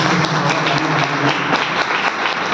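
An audience at a network marketing meeting welcomes new guests with loud, dense clapping, close and steady throughout the short stretch, with no speech over it.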